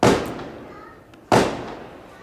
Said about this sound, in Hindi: इसी बात पर पटाखे फूटने लगे हैं चारों ओर।